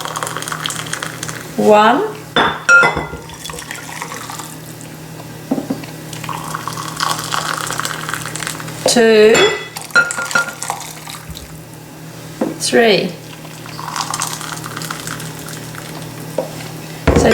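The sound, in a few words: pouring three cups of hot boiled water into a mix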